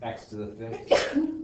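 A single sharp sneeze bursts out near the end of a sentence during a calculus lesson, loud and close, with someone talking just before it.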